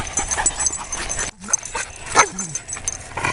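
Tired dogs whimpering outdoors after a walk through bushes: a brief, rising whine stands out midway over a steady rustling background, with no talk.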